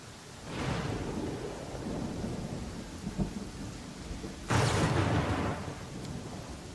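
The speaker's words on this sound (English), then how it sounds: "Okay, what's with all this lightning? That's starting to worry me." A thunderstorm in the fantasy role-playing game Pathfinder: Kingmaker rumbles with steady rain, a rolling thunder crack early on and a louder, sharper thunderclap later, all without voices.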